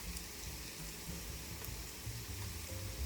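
Tteokbokki rice cakes and beef stir-frying in oil, giving a steady close sizzle and crackle that runs the whole time with no voices.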